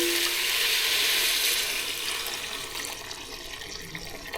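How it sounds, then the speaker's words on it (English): Blackfish (tautog) stock poured into a pot of wilted vegetables, a steady rushing liquid pour that gradually softens over a few seconds, close and alone. "we are going to add our Blackfish stock."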